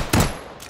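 Pistol shots in the VR shooting game H3VR: one sharp, loud crack followed by a second fainter shot about half a second later, no voices.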